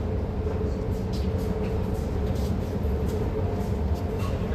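Metro train rumbling steadily at a station, a continuous low drone with faint rail noise throughout, no clear voices.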